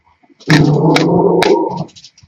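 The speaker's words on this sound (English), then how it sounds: "Sorry about my dog, you can hear barking there." A dog growls loudly and close for over a second, with sharp barks breaking through the growl, heard alone without talk.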